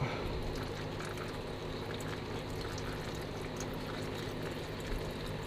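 Motor oil drains from a 2005 Honda Pilot into a catch tray, a steady close pouring, trickling wash of liquid that holds at an even moderate level throughout, with no one talking.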